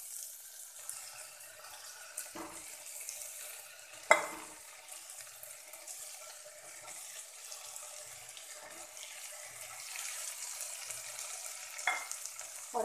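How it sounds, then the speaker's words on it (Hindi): Potatoes and green fava beans frying with spices in a pan over a medium-high flame, a soft continuous sizzle broken by a few sharp clinks of the stirring spoon, with no talking. "और मीडियम हाई फ्लेम पे इसको थोड़ा सा चलाते हुए 1 मिनट तक सब्जी और ये सेम की फली और आलू को भून लेते हैं।"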